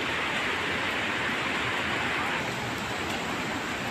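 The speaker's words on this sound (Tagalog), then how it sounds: "Ulan eh, malakas yung ulan" Dense, steady hiss of heavy rain pouring down, continuous and loud with no pauses.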